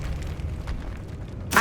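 Spell effects from Hogwarts Legacy, fire, knockdown and push spells, rumble low and steady, with a sharp bright burst near the end.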